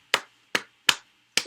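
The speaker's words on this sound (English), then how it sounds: "Sorry, I gotta clap." Hands clapping, four sharp, close claps at an uneven pace, each a crisp isolated snap followed by silence.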